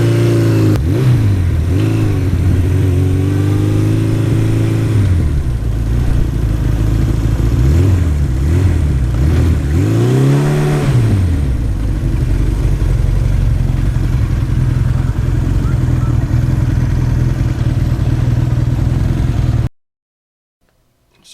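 A restored 1985 Yamaha RZ350 two-stroke motorcycle revs hard in repeated rising and falling bursts during a run-by, then settles into a steady drone before cutting off abruptly near the end.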